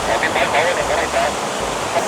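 Broad steady rush of plentiful water at a seven-tier waterfall, Namtok Krok I Dok in a Saraburi forest, constant and fairly loud throughout without any clear voices.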